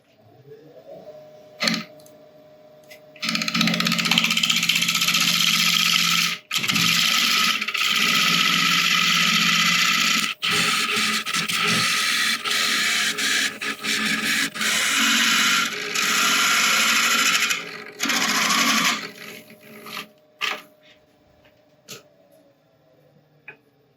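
A burl spinning on a wood lathe as a gouge thins it, a loud continuous rasping cut in long stretches broken by brief pauses and clunks, then quieter tool touches at the end.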